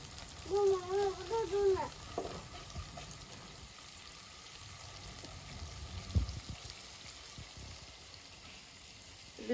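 Chopped green chillies and onion frying in oil give a quiet, continuous sizzle with occasional stirring scrapes and clinks; a short tonal beeping sounds near the start.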